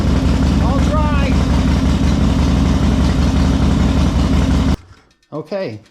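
A 2005 Harley-Davidson Heritage Softail Deluxe V-twin idles close by with a steady low rumble, a voice speaking over it, before the engine cuts off and a brief voice follows in the quiet.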